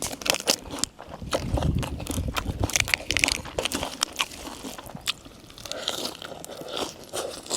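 Someone eating crispy food makes close, fairly quiet crunching and chewing sounds in quick, irregular bites, with no talk.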